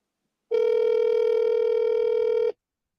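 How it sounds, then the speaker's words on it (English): Ringback tone of an outgoing telephone call, a single steady electronic tone lasting about two seconds, clear and close, with no talk. "Phone's ringing."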